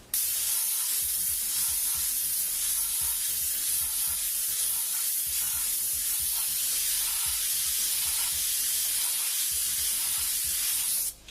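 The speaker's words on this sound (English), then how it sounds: "I'm going to put that spray right through there again. Nice wide spray." A continuous, even airbrush hiss sprays paint for several seconds, close and steady, with faint low mechanical ticking beneath it.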